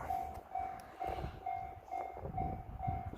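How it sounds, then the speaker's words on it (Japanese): A JR Shinonoi Line train nears a level crossing in the evening, its low rumble building beneath a steady, repeating crossing-bell tone that rings throughout. "列車が近づいてきます。"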